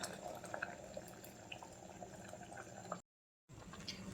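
Jaggery syrup for lentil payasam bubbles and simmers steadily in a pot, a soft continuous burbling with small pops, quiet and close, briefly cut off before resuming.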